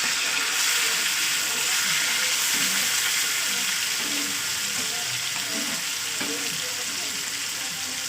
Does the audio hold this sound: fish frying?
yes